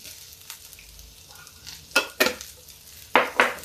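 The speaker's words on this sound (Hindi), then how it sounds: "भिंडी को थोड़ा सा फ्राई कर देना है" Okra stir-fried in a pan for a home-cooked Indian vegetable dish, with a few loud scraping stirs and clatters over a quiet background sizzle, close by and without talk.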